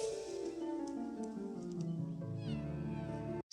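A cat meows in a drawn-out, wavering cry from a live-action family film about a cat and a dog, loud and close, with no voices and a sudden cut at the end.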